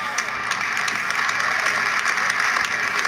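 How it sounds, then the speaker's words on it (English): A crowd claps in dense, steady applause that fills the room at an even loudness throughout. "Can we have a round of applause for Chuck Schumer?"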